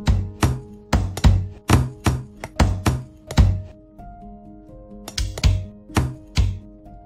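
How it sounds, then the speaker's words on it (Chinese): Lemongrass stalks are smashed on a board with a heavy blade or mallet, giving loud, close thunks in a steady rhythm of about two per second, with a short pause halfway through before the blows resume. "柠檬草，把柠檬草敲裂"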